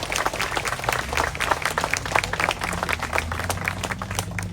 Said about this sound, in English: So let's give them applause as well.